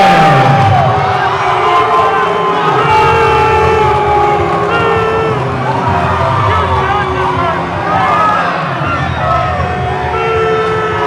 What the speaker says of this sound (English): And the crowd, not necessarily the biggest fan of the decision.